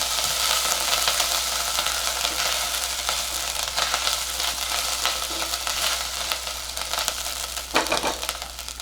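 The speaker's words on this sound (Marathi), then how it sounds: "आणि हे आलं जे म्हणजे आपण किसून ठेवलं होतं ते एक मिनिटभर हे परतून घेऊया तुपावर" Grated ginger and green chillies fry in ghee, a close, continuous hiss and crackle of sautéing with occasional stirring scrapes and a louder clatter near the end, with no talking.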